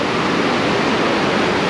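Rushing whitewater rapids on the Nantahala Cascades at low flow around 250 CFS, a loud, continuous broadband roar of churning water close by with no voices.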